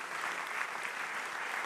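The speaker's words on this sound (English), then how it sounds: "Sophie, please give him a round of applause." An audience at a talk event applauds, a dense, steady wash of clapping hands filling the whole moment without a break.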